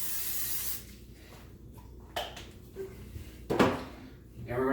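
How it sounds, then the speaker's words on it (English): Cooking spray hisses onto the bottom of a pan in one loud, steady burst of close spraying that ends abruptly. It is followed by quiet kitchen clatter and a voice speaking briefly. "I am going to spray the bottom of this pan"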